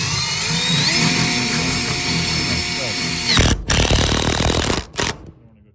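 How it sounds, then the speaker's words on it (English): Power drill driving a hole saw through metal to enlarge an existing hole, a loud continuous whine that stops abruptly, restarts in short bursts, then dies away; a voice is also present. "And just drill."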